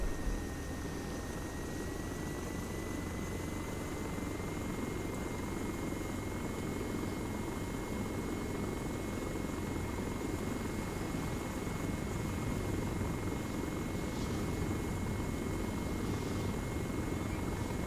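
Helicopter in the military game ARMA 3 flying overhead, a steady loud rotor and turbine drone with a constant whine that holds for the whole stretch without letup.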